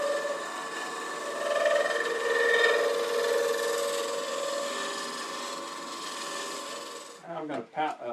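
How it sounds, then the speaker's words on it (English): Spear point scraper cutting into a spinning wooden piece on a lathe while hollowing a geometric form, a steady continuous scraping rasp over machine hum that ends abruptly, followed by a few brief knocks. "let me use my spear point scraper"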